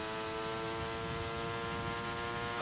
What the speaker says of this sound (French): le bruit du moteur en fin de ligne droite